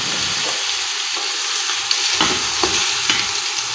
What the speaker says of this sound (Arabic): نخلي القدره تاعي تتقلى مليح مليح